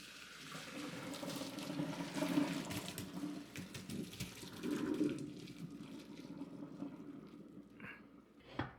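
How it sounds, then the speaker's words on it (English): Cooked rotini noodles drained after pressure cooking in an Instant Pot, with hot water pouring and splashing steadily for several seconds, loud and close, easing toward the end. "I'm going to drain out the water"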